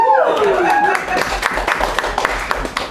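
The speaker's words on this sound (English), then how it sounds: "You can clap." A comedy club audience breaks into scattered clapping right after a comedian's voice, the claps loose and uneven over a steady room murmur.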